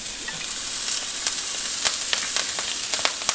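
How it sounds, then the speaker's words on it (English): Kale frying in grapeseed and sesame oil, a steady bright sizzle and crackle with small pops scattered throughout, close and without talk. "we're going to add our kale into the mixture to fry"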